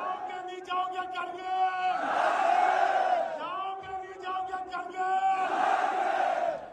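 A large protest crowd in the streets of Gilgit-Baltistan shouts and chants loudly in continuous waves, many voices rising together in sustained bursts.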